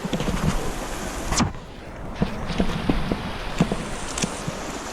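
Steady rushing river water with irregular splashes and knocks, like someone wading across a cold river in the Markha Valley, Ladakh, India; no voices.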